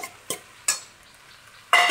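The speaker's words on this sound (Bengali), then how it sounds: "ডালটা দিয়ে একটু ভালো করে কষিয়ে নিতে হবে, তাহলে ডালের গন্ধটা থাকবে না" Chana dal and potatoes sautéed in a pan for ghugni: a few short metallic clatters of a spoon stirring, then a louder burst of sizzling and scraping near the end, with no talking.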